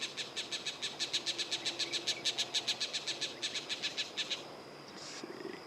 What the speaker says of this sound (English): Oh, and I'm hearing green jays.